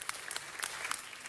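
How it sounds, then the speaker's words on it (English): Applause at a city council meeting, a quiet, even patter of many hands clapping in a room, steady throughout with no voices. "Let's give a round of applause and welcome."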